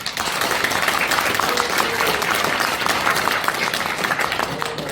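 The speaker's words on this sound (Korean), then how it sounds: "박수 한번 주십시오" An audience at a founding seminar of a Korean anti-fake-news foundation breaks into sustained applause, a dense, even patter of many hands clapping that fills the room without pause.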